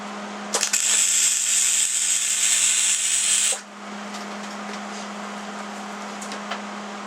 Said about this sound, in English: Now we're going to come over and do this corner.